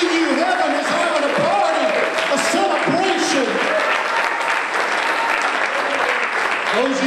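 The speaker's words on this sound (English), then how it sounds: "let's give God a big hand clap of praise in the place." A church congregation applauds with sustained, dense clapping that fills the room, while a voice speaks over the start of it.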